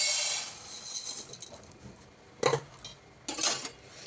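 Pearl millet dry-roasting in a pan while a spoon stirs it, giving a soft hiss with a couple of sharp scraping clinks of metal against the pan.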